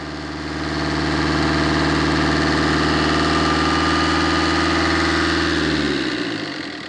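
A Tata Bolt car engine idles steadily and loudly for several seconds, its low harmonic hum constant, then winds down and cuts off near the end.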